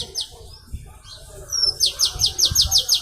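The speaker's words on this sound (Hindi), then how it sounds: "चिड़िया चहचहा रही है।" Morning birds chirp in the trees: thin, high tweets come one by one, then a quick, bright run of repeated chirps, clear and fairly close, with no voices.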